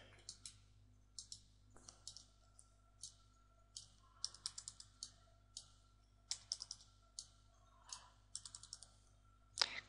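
Typing on a computer keyboard, quick bursts of crisp key clicks in short clusters with brief pauses between, close and quiet over a low steady hum.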